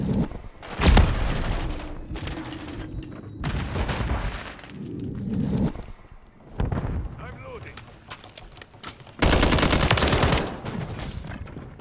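Gunfire in a Call of Duty Modern Warfare 3 team deathmatch: bursts of automatic fire and sharp shots in loud clusters separated by quieter gaps, with a heavy sustained volley near the end and voices shouting between bursts.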